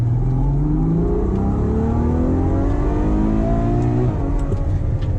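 Ferrari FF V12 engine accelerating hard toward its 8,000 RPM red line, a loud continuous rising roar that climbs steadily, briefly drops as it shifts, then pulls again.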